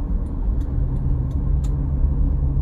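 Steady road traffic on the Krapyak-Tembalang toll road in Semarang, a continuous low rumble of passing cars and buses with faint brake hisses, fairly near and filling the whole stretch.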